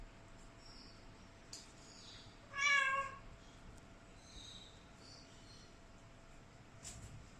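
A house cat lets out a single clear meow at moderate distance, with faint room noise and a low steady hum around it.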